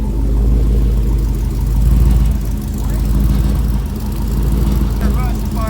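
An LS-swapped car engine idles with a deep, steady exhaust rumble, loud and close, its level swelling slightly and easing back.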